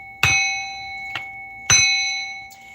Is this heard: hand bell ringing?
yes